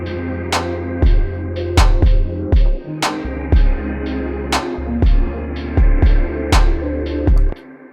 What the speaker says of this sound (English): We're gonna listen to the Ambient Shimmer preset on the guitar and hear how it sounds in conjunction with the beat.